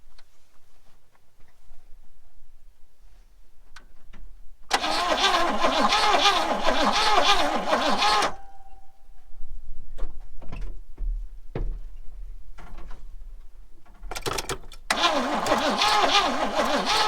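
A 1968 Impala with a 396 big block V8, left sitting for 25 years, cranks loudly in a sustained whirring burst, goes quiet with scattered knocks, then cranks again near the end; no talk.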